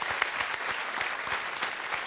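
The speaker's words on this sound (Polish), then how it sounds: "Brawa, brawa." Audience applause breaks out at a Polish comedy show as a football star is called on stage, a steady wash of clapping from a large crowd, fairly even and moderately loud with no talk over it.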